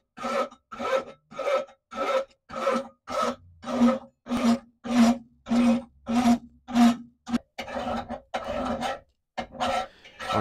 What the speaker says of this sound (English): I'm going to go through with an old rasp here and just try and get all these marks level